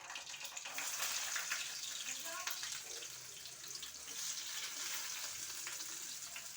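Cumin seeds fry in hot oil for a crab curry, a continuous bright sizzle that stays fairly quiet and steady throughout.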